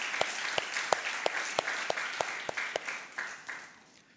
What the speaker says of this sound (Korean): 우리 입술로 주의 아름다우심과 높으심을 고백하게 하신 하나님께 이 시간 다시 한번 감사와 영광의 박수를 올려드리겠습니다